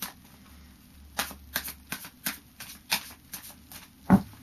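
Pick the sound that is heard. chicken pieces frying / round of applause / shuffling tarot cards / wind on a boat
shuffling tarot cards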